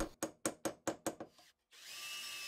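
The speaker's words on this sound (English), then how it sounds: "Now I need to drill some mounting holes, and for this I'm using a 5/32 of an inch drill" A 5/32 inch drill bores mounting holes in the baseboard of a model steam plant, giving about seven sharp rhythmic bursts that fade, a short pause, then a steady whirring hum.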